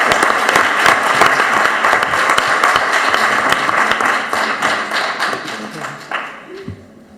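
An audience at a general health psychology talk applauds speaker Ernesto, a burst of many hands clapping with distinct close claps among the crowd, holding strong before tapering off into scattered claps and fading.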